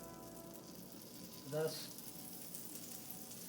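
Butter melting in a pan for scrambled eggs gives a faint, steady sizzle, with a short swell in the middle as someone briefly speaks.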